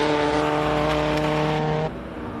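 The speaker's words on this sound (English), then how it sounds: "one of those cars that you feel almost before you hear it" A loud race car at the 2024 Simola Hillclimb King of the Hill event in South Africa roars with a steady, droning engine note close by, then drops noticeably in level near the end.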